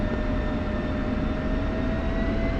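A steady, loud jet engine whine from an F-16 taxiing along a runway toward a rearm and refuel pad in the DCS flight simulator, constant and close with no talk.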